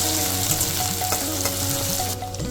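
Onion, ginger and garlic paste frying in a pan for an egg curry, loud continuous sizzling with brisk stirring strokes, close up and without talk.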